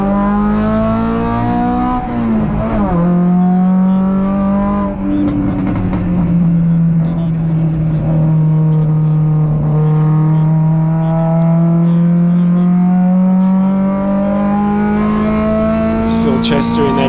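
MGB GT and other MG race cars scream past on a circuit during a club race, engines loud and close with rising and falling revs and gear changes, a commentator talking over the noise.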